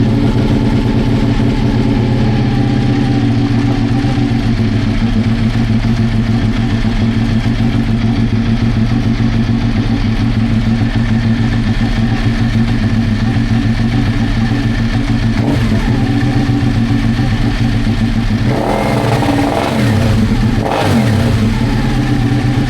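A motorcycle held on launch control at 6,000 RPM, a loud, steady, buzzing engine drone with a constant pitch that stays pinned throughout, broken near the end by a few sharp bursts, close and with no talking.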